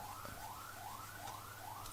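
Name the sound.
ambulance siren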